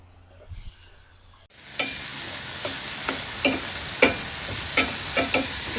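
Dal, onion and pumpkin sizzle in a pan on an outdoor backyard stove, a steady frying hiss broken by regular scraping stirs of a spoon, close and without talking.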